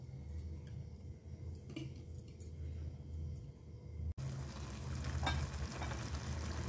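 Green beans and potato vegetable cooking in a pan with grated coconut, giving a steady low sizzle and faint stirring scrapes that run on continuously, with no talk.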